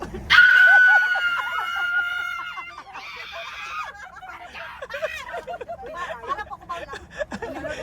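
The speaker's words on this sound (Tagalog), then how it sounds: "Isa pang sigaw" Crowd at a meet and greet in Manila letting out a loud burst of shouting and screaming, then settling into excited chatter, laughter and scattered yells with voices throughout.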